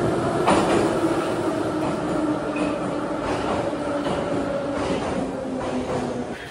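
An Istanbul metro train rides along, heard from inside as a continuous rumble and rattle of wheels on rails, with faint squealing tones layered over the steady car noise.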